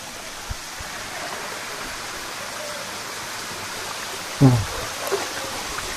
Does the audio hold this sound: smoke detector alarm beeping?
no